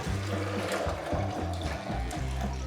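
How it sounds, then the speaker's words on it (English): Filtered water poured into a blender jar over soaked nuts for nut milk, a continuous close splashing gush with a low hum running under it. "Then you're just gonna add some filtered water"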